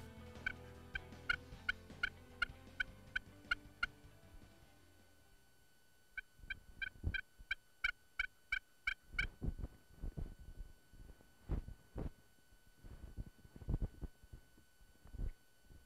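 Wild turkeys gobbling during a spring turkey hunt in Oklahoma, repeated rapid gobbles rolling out in two bursts, fairly distant, followed by scattered rustles and thumps nearby.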